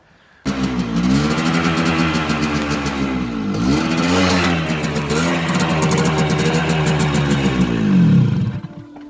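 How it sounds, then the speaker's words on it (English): A small GP 100 two-stroke motorcycle engine runs roughly up close, a loud, buzzy idle that dips and swells with uneven revs before cutting off. "I got the little GP 100, I've got a little two-stroke thing, got that running, well, kind of running"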